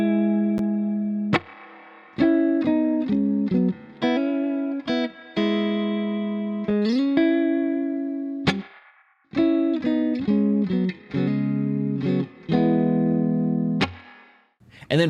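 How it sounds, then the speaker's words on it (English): Guitar played through a compressor, delay and a reverb pedal with its dry/wet knob set almost full, picking short chordal phrases and single notes that ring out with long washy tails between strums, fairly loud and close. "I went over to the reverb pedal. The dry wet knob is almost full, and let's go ahead and listen to that."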